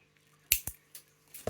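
Wire cutters snip the protruding end of wire on handmade Christmas earrings: two sharp, close clicks in quick succession, then a softer tick and a faint rustle in a quiet room.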